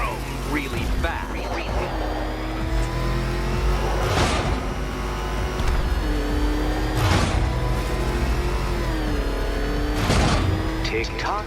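The Batmobile in Batman Arkham Knight roars with a loud, continuous engine drone that swells into several surging revs and whooshes, while a voice talks over it.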